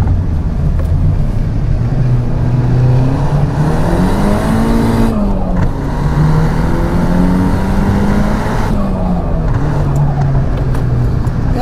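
A Nissan Silvia S15 Spec R engine revs hard while driving, its loud, close drone climbing and dipping through the gears with a brief lift around the middle before pulling again.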